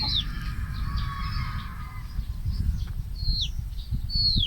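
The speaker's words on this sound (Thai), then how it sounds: "กุ๊กไก่เยอะฮะกุ๊กไก่" Chickens, including fighting cocks, clucking and chirping at a fishing pond, short calls repeating at moderate distance over a steady low outdoor rumble.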